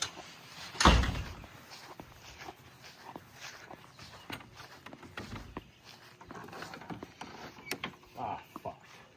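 A shed door slams shut with one loud bang near the start, followed by faint shuffling footsteps, small knocks and rattles around the shed.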